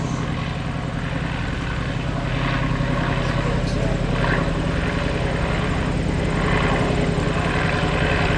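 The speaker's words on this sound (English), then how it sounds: "Watch how Ken will hang this airplane right on the propeller." A Fokker D7 airplane's engine and propeller drone steadily in flight, a loud continuous buzz that holds without break, with talk heard over it.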